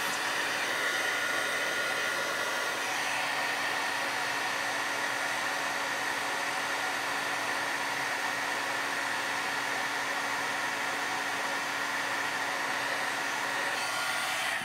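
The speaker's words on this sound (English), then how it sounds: "I'm just going to heat emboss this" A heat embossing tool blows hot air onto a handmade watercolor sympathy card, a steady, loud, even whoosh like a hair dryer that lasts the full clip with no talking.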